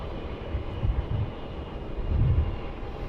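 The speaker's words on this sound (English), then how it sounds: "And there it is, the Cathay 350-1000 slowing down there and vacating runway 34" A Cathay Pacific Airbus A350-1000 decelerates on runway 34, heard from a distance as a steady low broadband engine rumble that swells twice, with no talk over it.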